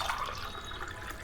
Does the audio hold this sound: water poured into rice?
yes